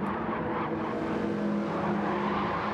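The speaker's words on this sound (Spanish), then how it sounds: "he escuchado un derrape" A race car at a racing championship skids, a tire squeal and engine roar blending in a continuous, fairly distant stretch of motor noise.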